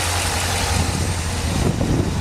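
A 1955 Ford Thunderbird with a three-speed manual and overdrive idles smoothly and steadily close by, its low engine rumble continuous and even, with no talking.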